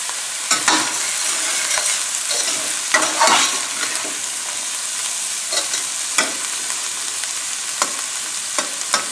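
Peeled, diced potatoes sprinkled with pink salt fry as hash browns in a pan over a high flame: a steady sizzle broken by several sharp scraping stirs.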